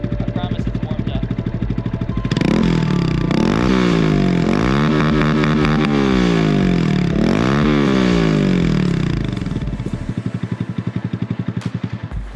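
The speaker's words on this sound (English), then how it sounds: "I gotta start it up and rev it for you, don't I?" A 2017 Honda Grom motorcycle idles steadily, then its small engine is revved in several sharp, loud sweeps before dropping back to a choppy idle.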